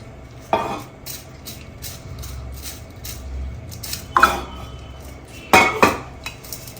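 Dashain tika being mixed in a bowl, with three loud bursts of spoon-on-bowl clinking and scraping separated by quieter stretches, close by.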